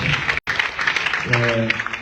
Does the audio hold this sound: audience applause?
yes